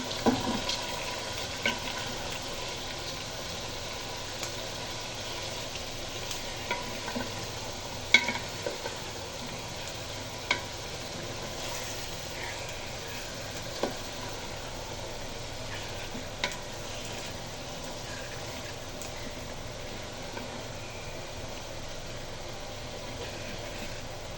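Vegetable khichuri being stirred in a cooking pot, a steady low simmering and scraping texture with occasional soft clicks of the spoon against the pot, fairly quiet and continuous with no talking.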